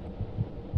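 Three soft, low heartbeat thumps in the horror game Among The Sleep, evenly spaced over a quiet, muffled hum.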